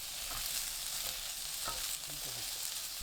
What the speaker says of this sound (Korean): 팬이 예열되면 가지 넣고 튀기듯 구워주세요